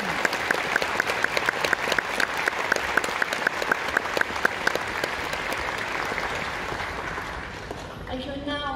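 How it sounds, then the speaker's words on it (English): A graduation ceremony audience in Adelaide gives the staff a round of applause, with thick, even clapping that fades out before a voice begins speaking near the end. "showing your appreciation for our staff with another round of applause"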